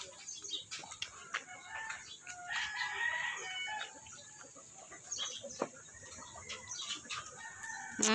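Chickens cluck and a rooster crows amid busy farmyard noise, with several overlapping bird calls throughout at moderate volume.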